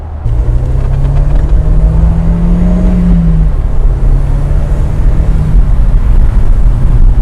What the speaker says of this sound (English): The turbo though has a nice sound.